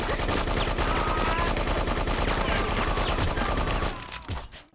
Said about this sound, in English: let's take a look at how long it takes when you just start blasting